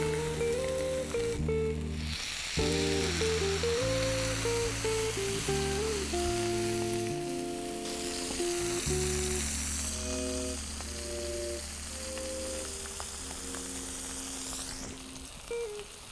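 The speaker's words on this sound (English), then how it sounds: "Now there is nothing else to do but putting my fish on the grill." Fish sizzles and fries on a steel plate over a grill, making a soft, continuous hiss under louder background music that plays throughout.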